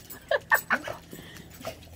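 A puppy whimpers excitedly in three quick high-pitched yelps, close and fairly loud, followed by softer whines.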